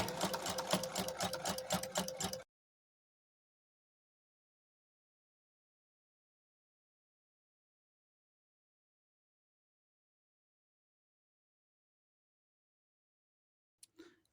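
A sewing machine stitches in the ditch along the edge of a quilt, a fast close rhythmic needle clatter for about two seconds that then stops dead, followed by long silence and a faint brief rustle at the end.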